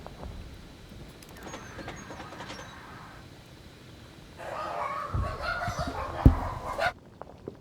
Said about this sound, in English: The dogs were starting to bark